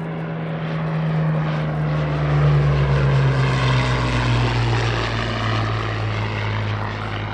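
A vintage WWII fighter with a piston propeller engine at a vintage airshow at Shuttleworth, a loud, steady droning roar that swells slightly midway and continues unbroken with no talking.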